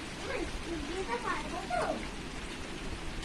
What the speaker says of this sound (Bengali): বাইরে আবার বৃষ্টি নেমে গেছে, দেখ জোরে বৃষ্টি পড়ছে